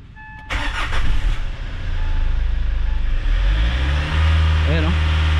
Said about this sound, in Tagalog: Tapos one click naman siyang paandarin.